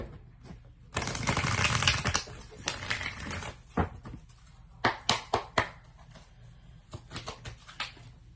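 A sharp riffling burst of tarot cards being shuffled, followed by several crisp taps and snaps as the deck is squared and handled, close up with no talk.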